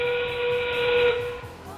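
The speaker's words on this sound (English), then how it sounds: "we will hear the whistle sound and the end game begin" Loud steam-style whistle sounding at an FRC robotics competition to signal the start of the end game, one steady tone lasting under two seconds.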